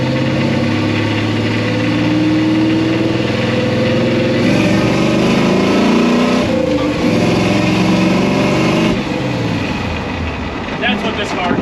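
A Pontiac Firebird field find, freshly swapped to a 4-speed manual with a brand new clutch, drives with a steady loud engine drone that rises and shifts in pitch through gear changes, with people talking over it.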